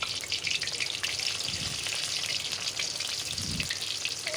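Round-sliced onions frying in hot oil in a kadai for a mutton curry, giving a steady close sizzle and crackle throughout with a couple of soft low thumps.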